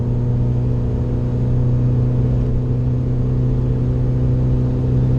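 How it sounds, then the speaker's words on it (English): A Ford Fiesta ST comes up from behind on a wet track, a steady droning engine hum and rumble that holds level throughout without any clear rise in loudness. "Fiesta ST coming behind us."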